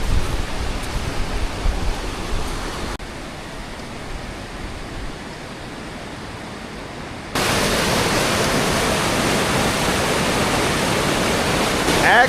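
A waterfall roars as a steady broadband rush that grows louder and closer partway through, continuous and dense with no distinct breaks.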